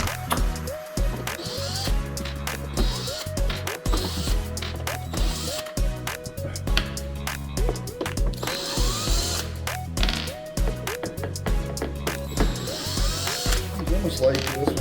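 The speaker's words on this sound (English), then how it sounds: "I am going to go get the screw gun so we can go whoop, whoop, whoop, whoop, whoop." Screw gun driving screws into a 2018 Toyota Tundra Limited center console, with repeated short whirring bursts and ratcheting clicks up close, separated by brief pauses and handling noises.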